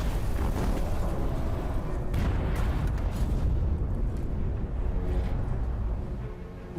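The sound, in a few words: torpedo striking a ship and exploding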